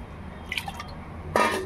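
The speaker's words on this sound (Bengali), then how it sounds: "ডালটাকে ধুয়ে নিচ্ছি।" Rice and about 250 grams of lentils are washed together in water for a paneer khichuri, giving a soft swish, a faint drip and a brief, louder wet splash near the end.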